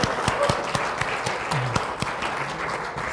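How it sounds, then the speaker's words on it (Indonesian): A church congregation claps together in steady applause during a worship service, with sharp individual claps standing out over a dense wash of hand claps. "marilah kita tepuk tangan buat Tuhan Yesus kita"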